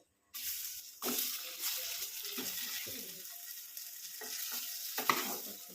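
Upma potato balls dropped into hot oil with a tempering of mustard seeds, cumin, tomato and coriander leaves, a sudden loud sizzle that flares again as each ball goes in, then a steady crackling fry.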